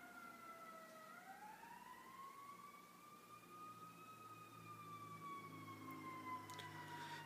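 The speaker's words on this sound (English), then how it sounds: "a siren is playing right now at this point in the video outside" An emergency siren outside wails in a slow rising and falling sweep, distant and faint over a steady background hum, with no talking.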